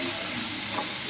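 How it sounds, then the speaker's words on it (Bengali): Chopped onions with a little salt frying in a pan, giving a steady, close, continuous sizzle with no talking. "পেঁয়াজটা হালকা করে ভেজে নিলাম"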